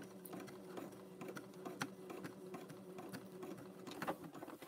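A sewing machine backstitching on coaster rope with a size 16 jeans needle, a quiet steady mechanical whirring stitch rhythm, close but faint, with no talking.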